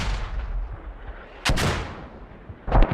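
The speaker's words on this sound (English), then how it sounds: "Those mortars are way off." Mortar fire booms in a military video game, two heavy blasts a second or so apart over a low rumbling battlefield background, distant but strong.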